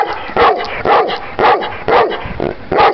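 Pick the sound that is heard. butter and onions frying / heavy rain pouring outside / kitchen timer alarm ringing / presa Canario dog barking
presa Canario dog barking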